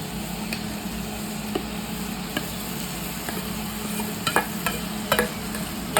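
Rice stirred and fried in a home pan for a pulao, with cinnamon and black pepper already in it. A steady low sizzle runs under a spoon scraping at irregular intervals, with a few sharper clicks near the end.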